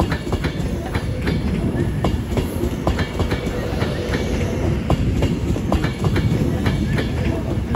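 Train departing Crewe station on the West Coast Main Line, loud close rumble with rhythmic wheel clatter and squeaks over rail joints, continuous throughout.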